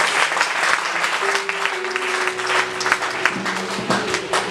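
Church congregation at a Sunday service applauding, a dense sustained burst of many hands clapping throughout, with a faint tone held beneath.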